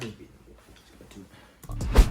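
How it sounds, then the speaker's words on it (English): A door is pushed shut with a solid thud near the end, after a stretch of quiet shuffling and room noise. "I don't know why I'm closing my door, y'all."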